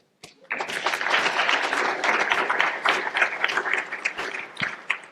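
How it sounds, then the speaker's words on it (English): An audience at a climate and health summit claps in a sustained burst of applause that starts abruptly, stays dense and fairly loud, and carries on without speech. "let's give you all a round of applause."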